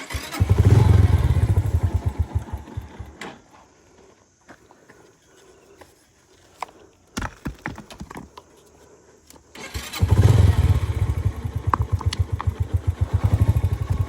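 An off-road motorcycle stuck on rough terrain in Leepa Valley, its engine chugging loudly, then cutting out into a stretch of quieter thumps and scuffs before restarting with a heavy, close putter.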